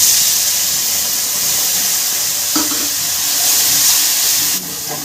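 Cumin-coriander paste frying in a pan, a loud steady hiss with a brief scrape of stirring partway through and no talking.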